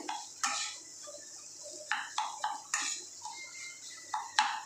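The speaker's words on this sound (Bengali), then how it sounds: "এইভাবে মিশিয়ে নিতে হবে।" A ladle scrapes and knocks inside a pot in uneven bursts while potato sambar ingredients are mixed, the strokes close and moderately loud against a quiet background.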